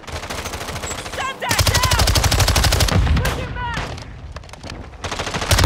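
Rapid automatic gunfire in an online video game shooter, loud sustained bursts with brief pauses and a hectic firefight mix.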